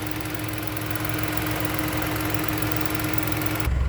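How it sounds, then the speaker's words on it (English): Engine of a 2021 Ford Bronco idling, a steady low hum with an even mechanical drone and faint vibration throughout, close by, with a louder shift right at the end and no talking. "Okay, with the motor running,"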